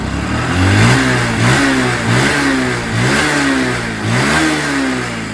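Car engine fitted with an AlONZA delay pump kit, revved hard and repeatedly close up, climbing and dropping in several loud surges between brief idle dips.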